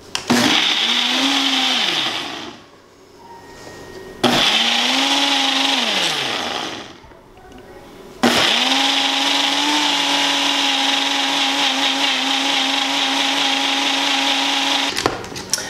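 A blender whirs loudly while making a spinach smoothie, running in three bursts. The first two rise and wind down with a dropping motor pitch, and a longer steady run follows, with no talk.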